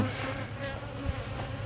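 A honeybee swarm hums near a small apiary of hives, a dense continuous buzzing drone with individual bees passing close, steady and without voices.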